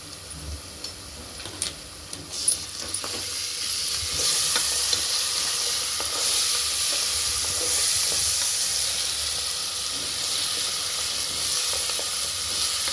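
Ginger-garlic paste sizzles in a pan with fried onions and a pinch of turmeric for a mutton curry, stirred steadily. Scraping stir strokes ride over a continuous close hiss of frying, with no talking.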